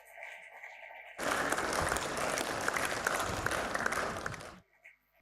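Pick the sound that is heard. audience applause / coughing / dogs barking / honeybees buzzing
audience applause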